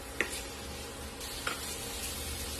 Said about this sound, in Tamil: இதையும் இதோட சேர்த்து லேசா வதக்கி விடுங்க